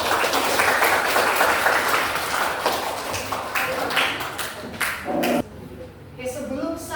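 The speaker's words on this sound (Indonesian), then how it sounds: "Oke, bagus, tepuk tangan." Students in a classroom clap together in a dense, steady burst that runs for several seconds, with voices mixed in, before thinning out into scattered sounds.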